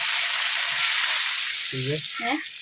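Dried red chilies and onion frying in hot oil, a steady loud sizzle filling the clip, with a voice briefly speaking over it near the end.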